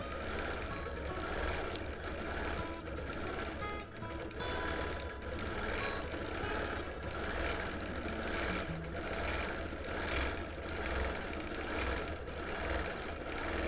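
A Bernina Q24 longarm sewing machine free-motion quilting with polyester thread runs in a continuous fast, even needle rattle, steady and close with a faint mechanical hum beneath, no voices.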